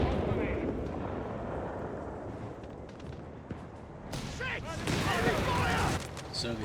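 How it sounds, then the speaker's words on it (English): Soviet artillery pounds a base in Company of Heroes 3 as a low, rumbling barrage under a dense mix of battle noise, mostly masked by a commentator talking throughout. "Base continues to get slowly ground down here with Soviet artillery."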